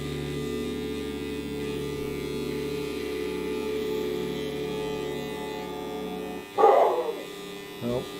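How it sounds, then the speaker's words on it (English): A dog barks in a short burst near the end, somewhat distant and outdoors, over a steady electric hum and motor whine of a rotary tool used for fossil preparation, with a voice talking underneath. "apologies if you hear dog barking in the background"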